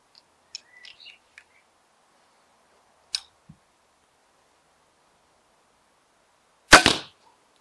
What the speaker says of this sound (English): the Jandau heavyweight bolt from the 150 pound recurve crossbow